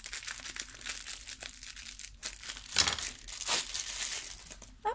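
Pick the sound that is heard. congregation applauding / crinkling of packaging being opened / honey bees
crinkling of packaging being opened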